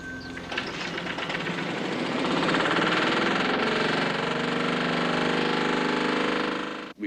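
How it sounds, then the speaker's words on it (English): An engine fuelled by a hydride made from ammonia runs steadily close by, a loud continuous mechanical drone with a rapid rhythmic chatter that holds level throughout before cutting off abruptly. "It is the fuel that powers this engine."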